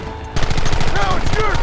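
Rapid gunfire in Red Dead Redemption during a shootout, a steady close run of shots that starts abruptly and keeps a fast even rhythm, with faint whistling ricochets over the top.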